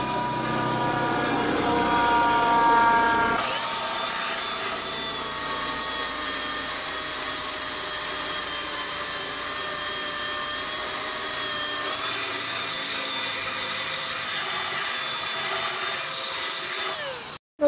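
Power tool grinding down edges and stripping glue on an 1986 Sea Ray boat transom, a loud continuous whining drone with steady tones that shifts up after a few seconds and holds for the rest.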